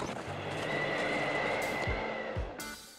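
A horse neighs in a long, loud whinny over steady background music, with a couple of deep thuds and a bright swell near the end.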